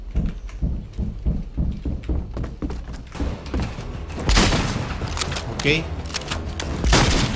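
Shotgun fire in the Fortnite video game, several sharp blasts in a quick volley at first, then louder booming shots and impacts, with players talking over the action.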